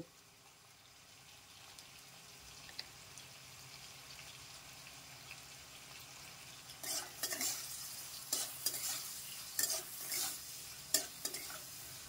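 Bitter gourd and potato pieces frying in oil sizzle quietly at first, then a spatula scrapes and stirs in repeated bursts, close and increasingly active.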